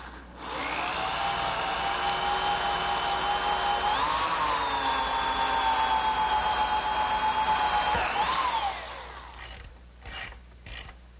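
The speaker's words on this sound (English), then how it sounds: "Now I'll just drill the holes using a 1/4 inch drill bit." A power drill fitted with a 1/4 inch bit bores holes in a wooden Adirondack chair, whining steadily for several seconds, shifting pitch midway and winding down near the end.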